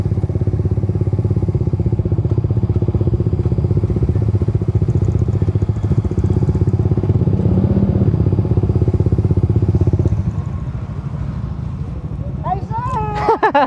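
A Raider motorcycle engine idles and revs close by with a rough, throbbing putter, easing down near the end as voices speak briefly over it.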